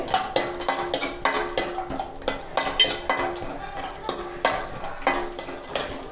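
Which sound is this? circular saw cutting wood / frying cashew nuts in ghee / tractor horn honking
frying cashew nuts in ghee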